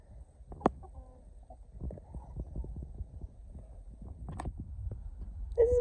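Backyard garden chickens gathered around a bowl, giving soft scattered clucks and low rumbling murmurs at close range, with a few sharper bursts among quiet rustling.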